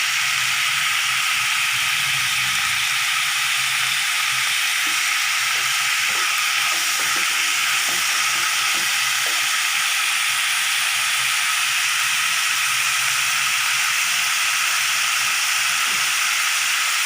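Onions sautéing in a pan for a tamarind and mint dish, a steady broadband hiss and sizzle running continuously and fairly loud, with faint scattered scraping ticks and no voices.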